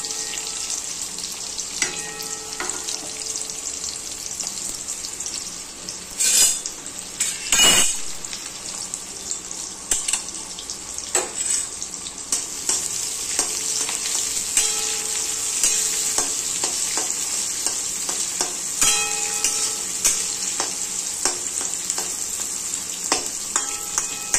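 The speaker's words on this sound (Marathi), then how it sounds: "त्याच्यामध्ये हा कांदा टाकून परतून घ्यायचा" Steady crackling sizzle of onion frying in hot oil after a mustard-seed tempering, with occasional clinks and scraping of a stirring utensil against the pan. No one speaks.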